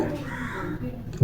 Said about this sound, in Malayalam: പുറത്ത് നല്ല കാക്കയുടെ സൗണ്ട് ഉണ്ട് അല്ലേ.